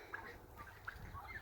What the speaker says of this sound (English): Turkeys are doing good, eating like crazy.